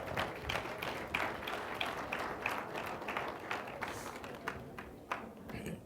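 A small audience at a training session applauds H&S staff with quiet, thin clapping, a handful of distinct claps repeating in loose rhythm before tapering off.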